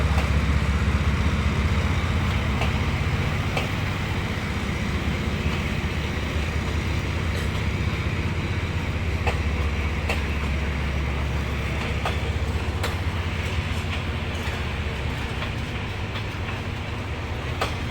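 A diesel locomotive and a long-distance train at Bang Sue junction station, heard as a continuous heavy engine rumble with a faint high whine and occasional metallic clicks and clanks, steady and fairly close with no talking.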